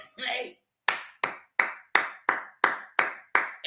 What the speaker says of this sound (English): Everybody should be standing up and clapping.